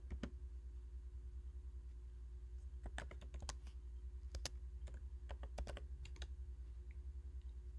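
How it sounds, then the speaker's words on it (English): Quiet, irregular clicks of a computer keyboard come in short bursts of keystrokes, close up against a low steady hum with no talking. "let me try to type something inside the file"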